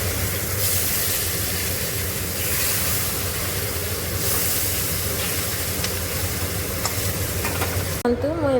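Fish pieces fry loudly in oil in a kadai. A dense, continuous sizzle runs close and steady throughout, with faint scraping stirs and a brief clatter near the end.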